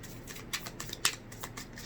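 Tarot cards being shuffled by hand, giving a few soft riffling and flicking bursts with one sharper snap near the middle, faint and close against a quiet room.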